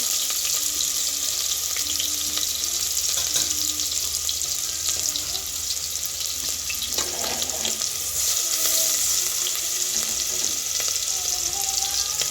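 Onions frying in oil inside a pressure cooker give a steady hissing sizzle throughout, with faint scraping and stirring clinks over the crackle and no talking.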